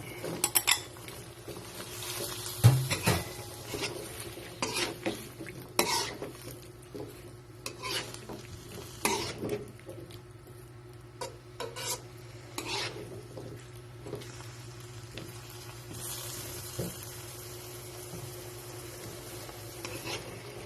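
Chayote pieces being stir-fried for chop suey, with a utensil scraping and clattering against the pan in irregular strokes over a soft, steady sizzle, close by and with no one talking.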